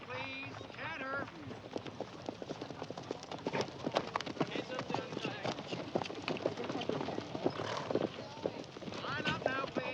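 Several horses canter around a show ring, their hooves clip-clopping in quick uneven beats at a middle distance while people talk over them throughout.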